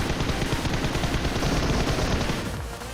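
Sustained automatic gunfire in PUBG Mobile, fired at a plane, forms a dense, loud, rapid rattle for nearly three seconds before easing slightly at the end.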